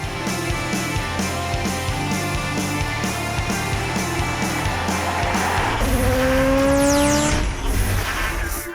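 Ford Mustang with a turbocharged four-cylinder engine driving hard, a loud, steady engine drone rising through the gears, then a sweeping high tire squeal and a surge of revs near the end.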